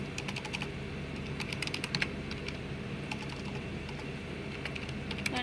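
Steady, close clicking of fingers typing code on a computer keyboard, with irregular bursts of keystrokes over a low background hum, no talk.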